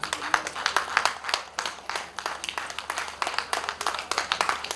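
Faint, steady clapping from an audience at an Igbo women's organization gala night in Abuja, greeting the national president with a continuous patter of many hands and no clear break.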